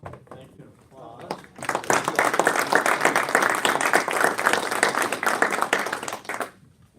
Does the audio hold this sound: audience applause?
yes